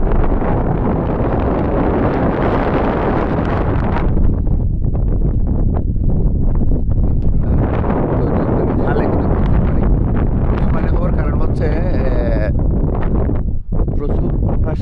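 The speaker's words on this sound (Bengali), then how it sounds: "প্রচুর বাতাস" Strong wind roars across a coastal shrimp-farm sluice gate in the Chittagong–Cox's Bazar area after a storm surge, a loud continuous buffeting rush against the microphone throughout.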